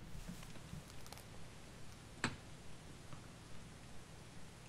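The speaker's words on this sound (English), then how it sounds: "Why is it still raining?" Rain falling in a modded Minecraft-style survival game, a faint, steady patter with occasional soft ticks and one sharper crackle partway through, without talk.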